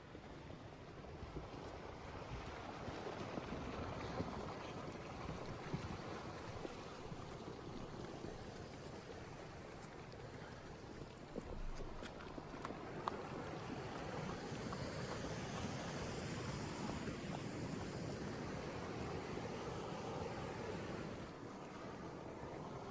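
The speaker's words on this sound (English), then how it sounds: "Front wall of this flood down Big Bug Creek." The front wall of a flash flood rushes down Big Bug Creek carrying logs and debris, making a steady, dense roar of churning water with wind buffeting the microphone throughout.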